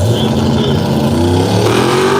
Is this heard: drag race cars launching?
yes